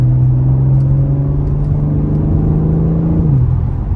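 A BMW M4 Competition AWD in sport mode, its engine and exhaust droning loud and close at a steady pitch before dropping slightly near the end, with no voices over it.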